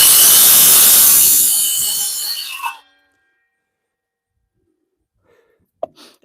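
Power tool sawing through wood while building steps for a small cabin, a loud, harsh, steady buzzing cut lasting nearly three seconds before stopping abruptly, followed by silence and a couple of faint knocks.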